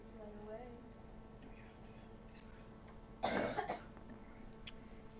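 A single short throat clearing or cough bursts out near the end, close and fairly loud, after a stretch of quiet room noise in a casual podcast setting.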